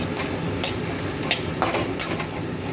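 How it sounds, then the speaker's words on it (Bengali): Tomatoes with ginger garlic paste fry in a pan, a steady close sizzle broken by a few sharp utensil scrapes and taps. "টমেটোগুলো একটু ভেজে ভেজে নেব।"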